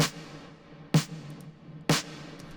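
A 707 snare pushed hard through overdrive cracks twice at an even pace, each hit a bright, gritty clap-like burst with a brief tail, standing alone in a progressive house mix.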